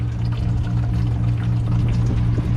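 Water gushes in a steady, heavy pour while an air bag is removed from a 1996 Newell Coach RV, a continuous splashing rush with a low hum underneath, close and loud.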